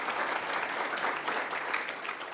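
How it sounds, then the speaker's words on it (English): Steady applause from an audience at an annual meeting and educational seminar, a dense even wash of many hands clapping at moderate distance that holds without pause. "round of applause."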